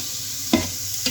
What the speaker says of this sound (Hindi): इसमें मैं चिकन डाल रही हूँ। बिस्मिल्लाहिर्रहमानिर्रहीम। इसको मैंने फ्राई करना है